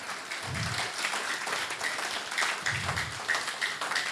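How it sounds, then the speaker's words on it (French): A church congregation claps along during a worship service, steady, fairly dense applause at moderate volume with a couple of low thumps underneath and no clear speech. "Applaudis l'Éternel. Applaudis le plus fort,"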